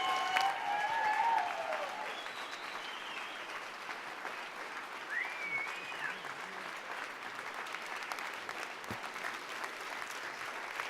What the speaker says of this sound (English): so you better keep clapping until he makes it up the ramp